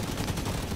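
Dense, continuous video game gunfire, sounding like sustained automatic bursts during a shooter match, fills the short moment at steady loudness with no pauses.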